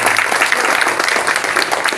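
Audience applause at a school festival event, a dense, steady patter of many hands clapping close by for the whole stretch, with no voices standing out.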